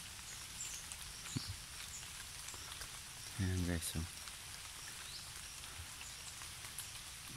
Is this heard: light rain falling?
yes